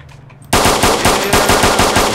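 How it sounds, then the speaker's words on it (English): Rapid automatic gunfire erupts suddenly in the DayZ video game, a loud sustained burst of closely spaced shots following a quiet moment. "Yeah, I shot him."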